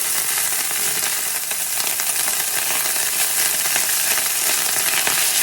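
Rice crisping in an oiled pan, a dense, loud, unbroken hiss and crackle of frying, steady throughout and close up.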